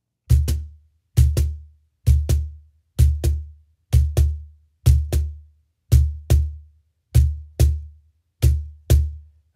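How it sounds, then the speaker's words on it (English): A cajon played with a bass roll, each pair of quick deep bass thumps from fingertips repeating in a steady rhythm about once a second, close and loud with no talking. "So essentially this is the bass roll."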